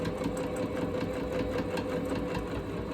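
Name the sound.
sewing machine stitching a quilted Christmas stocking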